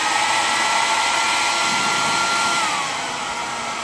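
A Xiaomi Soocare Soocas H3 ionic hair dryer blows steadily with a loud, close whoosh and a faint motor whine, then drops a notch in strength near the end as its setting changes.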